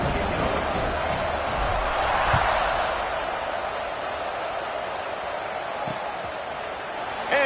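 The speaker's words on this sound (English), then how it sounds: "this crowd is buzzing after that last score" A college football stadium crowd keeps up a broad steady roar after a score, dense and distant-sounding, with a commentator talking over it.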